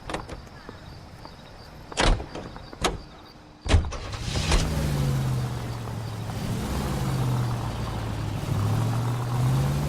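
Car in L.A. Noire with door thumps and a latch click, then the engine starting and a steady motor drone as it pulls away and drives on, with brief speech.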